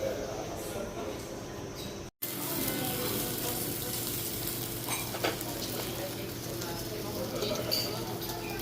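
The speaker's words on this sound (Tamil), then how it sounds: "முட்டை ஆம்லேட் போடுறாங்க" Egg omelette frying in a pan at a breakfast spot in Krabi, heard as a steady close sizzle with stirring and a brief cut, while people talk over it.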